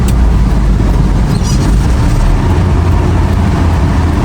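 A high-mileage Toyota HiAce Siyaya minibus engine drones steadily in third gear, a loud, constant low rumble with road and cabin noise throughout and no talking.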